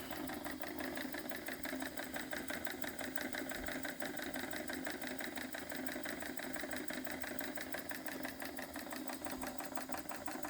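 A modified Ertl IHC toy hit-and-miss engine runs steadily with a fast, even mechanical chugging and ticking, close and continuous with no pauses.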